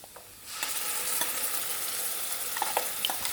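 Onions and ground masala paste fry in a pan for a fish curry, a steady close sizzle with scraping stirs and occasional clicks of a utensil, no voices.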